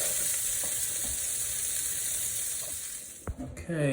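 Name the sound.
green beans and diced hot peppers frying in olive oil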